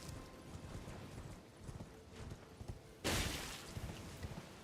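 Horse hooves clip-clop in the fantasy video game Elden Ring, a steady run of soft thuds under faint game ambience, with a sudden louder burst of sound partway through.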